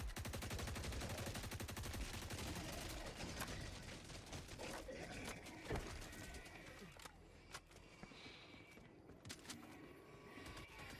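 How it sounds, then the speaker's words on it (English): Rapid machine gun fire in the Helldivers 2 video game, a dense continuous stream of shots with a few louder bursts and scattered game effects, with no voices. "our machine gun is doing all the heavy lifting for us"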